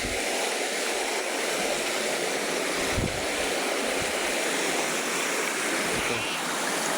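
A small creek flows in a continuous broadband rush of water, steady and close, with a few soft thumps and no voices.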